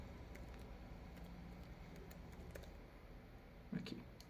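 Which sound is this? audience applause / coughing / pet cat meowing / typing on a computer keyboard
typing on a computer keyboard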